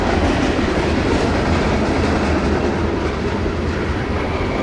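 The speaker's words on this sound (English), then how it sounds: "NS 153 was just getting started coming out of Pomona Yard in Greensboro, North Carolina." Norfolk Southern freight train NS 153 rolls steadily out of Pomona Yard in Greensboro, North Carolina, a loud continuous rumble of wheels and cars with faint clickety-clack running the whole way through.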